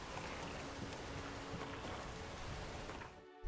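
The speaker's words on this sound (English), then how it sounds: "Oh no, it's raining! I'm gonna get wet." Steady rain pours in The Witcher 3: Wild Hunt, a dense continuous hiss of falling water that holds evenly for about three seconds and then cuts away to near silence.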